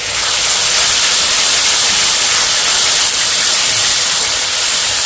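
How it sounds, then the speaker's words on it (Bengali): Ginger, garlic and green chili paste hits a hot pan of fried onion and tomato for ghugni, giving a loud, close, steady hissing sizzle that holds evenly throughout with no voices. "আদা রসুন আর কাঁচা লঙ্কা বাটাটা একসঙ্গে দিয়ে দিচ্ছি"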